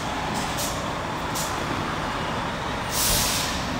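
A fire truck pulling out of a Los Angeles Fire Department station gives off steady air-brake hiss and a broad rumble, with a louder, brighter burst of released air near the end.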